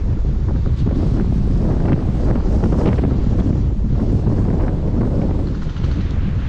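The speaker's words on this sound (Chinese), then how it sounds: "风声老大，别往这块嘚瑟了" Strong winter wind in Chayu, Tibet, roars steadily and buffets the microphone with a dense, rumbling rush that never lets up.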